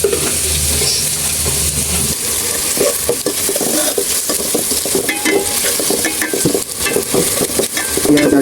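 Onions frying with salt in a pan give a loud, steady sizzle with scraping stirs throughout, heard alone and close up.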